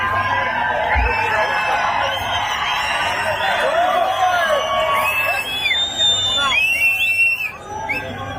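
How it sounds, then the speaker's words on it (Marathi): A large crowd at an open-air political rally in Nashik roars with shrill, sliding whistles rising above a dense wash of cheering and clapping, loud and continuous, easing slightly near the end. "शिट्या आणि टाळ्या माननीय उद्धव साहेब आणि राजसाहेबांसाठी आहेत."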